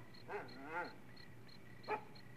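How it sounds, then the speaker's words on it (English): A hound dog gives three short barks, two close together and a third after a pause, fairly faint over a low background hum. "In one intelligent hound dog."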